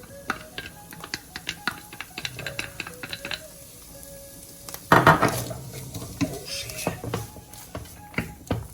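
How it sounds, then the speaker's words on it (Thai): Onion and chopped garlic stir-fried in a pan, a brisk run of close metal spatula taps and scrapes over a soft sizzle, with a louder burst of clatter midway. "ผัดทุกอย่างให้เข้ากันค่ะ"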